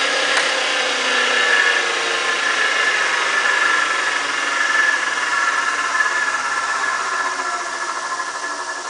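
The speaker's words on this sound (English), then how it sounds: "Series mount DC motor will crank as many RPMs based on the amount of voltage you put into it." A series-wound DC motor spins with no load while mounted on a portable workbench, giving a steady, loud, even whirring hum that holds for the whole stretch and eases slightly at the end.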